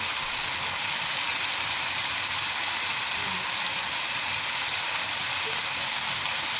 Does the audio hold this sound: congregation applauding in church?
no